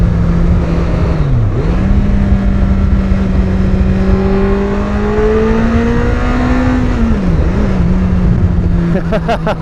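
A Kawasaki Concours 14 motorcycle with a Delkevic exhaust roars close by, pitch climbing and dipping as it revs hard through gears to 7,500 RPM, with heavy wind rush throughout.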